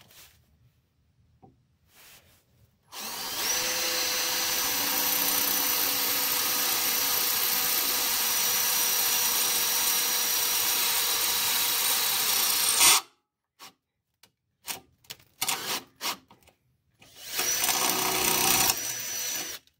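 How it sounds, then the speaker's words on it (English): A power drill bores into a 2001 Jeep TJ while fitting a towing wiring kit, whirring loudly and steadily for about ten seconds, then stopping, followed by brief knocks and a short final burst. "I'm going to drill one right there"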